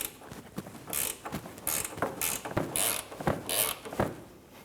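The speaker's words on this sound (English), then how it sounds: "Taking a small ratchet, we're going to fit our triple square socket on the back end" Small ratchet turning a triple square socket on a control arm bolt of a 2009-2017 Audi Q5, close mechanical clicks and creaks in irregular bursts of short strokes, with no talk.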